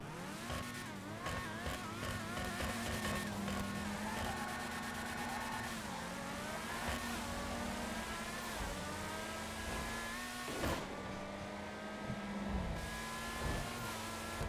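Principe Deveste Eight supercar in GTA Online, its engine revving and shifting through rising and falling tones, steady and fairly loud for the whole stretch with a thin, tinny edge and no talking.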